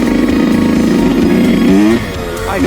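A 2020 Yamaha YZ125X two-stroke dirt bike engine runs loud and close, holding a steady buzzing idle before a brief rev that drops off, then settles again.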